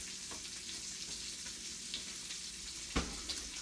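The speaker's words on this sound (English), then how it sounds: "All right, let me finish checking on this bacon. The bacon crisping continues." Bacon sizzling steadily in a pan as it crisps, a constant close crackle with occasional louder pops and no talking.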